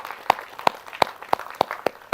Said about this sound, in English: So big round of applause for all the faculty members who actually took it up.